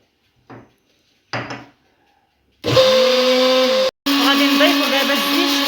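A countertop blender whirs loudly and steadily while mixing homemade mayonnaise of mustard and vinegar, starting after a couple of brief clunks, with a short pause before the motor resumes.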